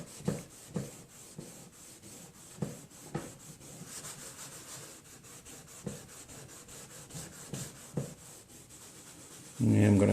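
Someone scrubs a heavy rust stain on a plastic Halloween blow mold, giving soft, irregular rubbing strokes with a few sharper scrapes, fairly quiet and close, before a brief louder bump at the end.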